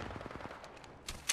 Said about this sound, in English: Multiples are shooting me.